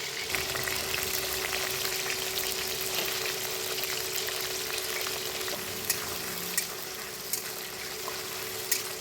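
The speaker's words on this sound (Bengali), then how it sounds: "আলুগুলো ফার্স্ট ভেজে নেব।" Potatoes coated in salt and turmeric fry in oil in a kadai with a busy, crackling sizzle that stays steady and fairly loud, broken by occasional light taps and pops.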